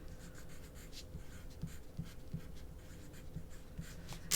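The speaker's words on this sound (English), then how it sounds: "get our pencil and write our name in the bottom right hand corner" A pencil writes a name in the corner of a sheet of paper, giving faint, close, intermittent scratchy strokes with short pauses between them.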